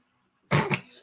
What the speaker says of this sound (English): I have a cough. I do have a cough.